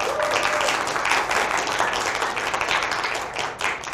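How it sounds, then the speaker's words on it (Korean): An audience at a Korean talk show applauds a guest introduced as the first female CEO, giving sustained dense clapping across the whole span, loud and steady with no voice on top. "박수 한번 쳐주시고요."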